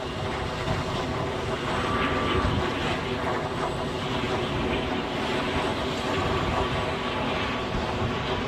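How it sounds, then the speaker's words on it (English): An Aer Lingus ATR 72 turboprop airliner arrives from Dublin at Edinburgh airport, heard close up as a loud, steady broadband roar that holds evenly throughout with no talking. "Inbound from Dublin is the Aer Lingus ATR 72."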